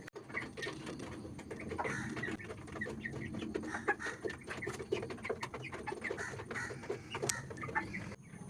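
Chickens clucking outdoors in the morning, a busy steady chatter of clucks and short calls at moderate distance, with no talk over it.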